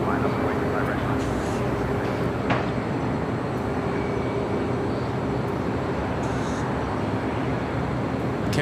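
An airliner takes off from runway 25 right at LAX, its jet engines a steady, loud broadband roar that holds evenly throughout with no letup.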